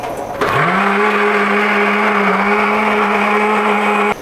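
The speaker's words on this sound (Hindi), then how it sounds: "ये अब हम ग्राइंड कर रहे हैं।" An electric blender grinds spinach with milk, its motor kicking on sharply and holding a loud, steady high-pitched whine close by for several seconds before cutting off.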